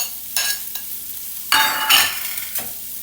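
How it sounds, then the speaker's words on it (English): Diced onion fries in hot olive oil and butter in a pan, with bursts of sizzling and crackling as it is stirred, close and fairly loud, with no talking. "I'm going to add my diced onion and just cook that until it's translucent"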